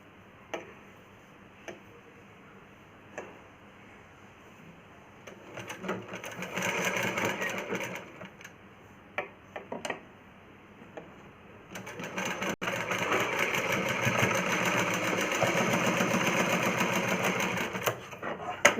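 A sewing machine stitches a plain cross-cut blouse in short bursts with pauses between them, then runs in a longer continuous stretch. The mechanical whir and ticking are close and clear.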